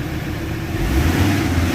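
An engine suffering a power loss and low compression is revved hard to about 2,000 RPM, shaking the unit, and gives a loud, close, low drone that swells partway through.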